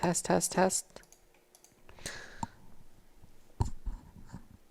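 Computer keyboard keys picked up by a low-quality webcam microphone during a game-analysis stream, scattered sharp clicks after a short burst of talk, faint and close.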